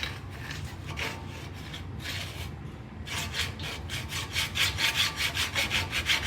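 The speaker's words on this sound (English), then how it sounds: "Let's go ahead and clean those up. I've got a brake caliper file." A brake caliper file scrapes the pad slide surfaces on a second-generation Toyota Tundra, rasping strokes close up that turn into a quicker, louder back-and-forth rhythm after a brief pause, with no speech.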